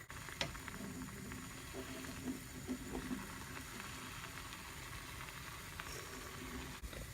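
Eggs are basted in a hot pan, producing a soft, low sizzle with a few faint ticks and small spatters, quiet and close with nobody talking.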